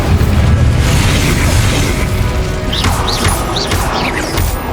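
An Incendio fire spell blasts in Hogwarts Legacy with a loud, dense crash and roar that holds for the whole moment, followed by a few quick whooshing swoops near the end.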